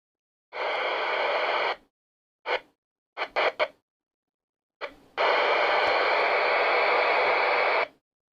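CB radio on channel 19 hisses with bursts of broadband static, a long burst, several short choppy keyed bursts, then another sustained rush of noise, fairly loud and with no talk.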